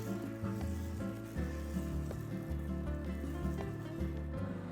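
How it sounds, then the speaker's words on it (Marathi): Ragi dosa batter spread on a hot tawa gives a steady, moderate sizzle, with a sustained tonal hum beneath it throughout. "आता डोश्याचा तवा गरम झालाय, त्यावरती आपण हे बॅटर घालूया आणि डोसा पसरवून घेऊया"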